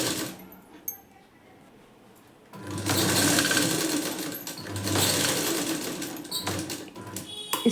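A sewing machine stitches the front part of a blouse with cross patti stitching, running in loud bursts of rapid rhythmic whirring after a quieter opening with faint handling sounds.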